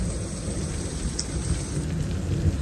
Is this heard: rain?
yes